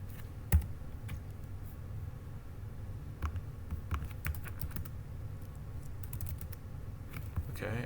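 Scattered, close clicks from typing on a computer keyboard, with a few short key bursts and one sharper louder tap early on, over a quiet room hum and without talking.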